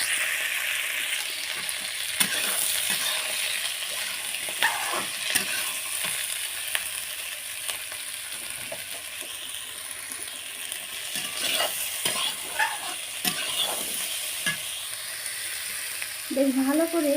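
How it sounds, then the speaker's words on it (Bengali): Bitter gourd seasoned with salt and turmeric frying in a wok, a steady soft sizzle with occasional scraping and clinks of a spatula as it is stirred, close and continuous. "প্রথমে উচ্ছেগুলো দিয়ে ভেজে নেব"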